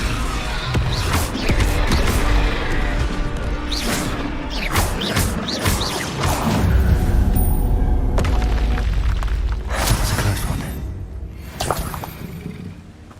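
Confringo spell explosions in the Hogwarts Legacy video game, loud booming blasts and crashing impacts repeating over thirteen seconds within dense combat noise and other spell effects.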